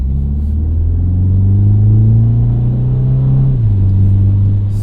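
A 2025 Mini Cooper JCW engine pulls hard from inside the cabin, a loud steady drone rising in pitch as it accelerates, then dropping at a gear change near the end.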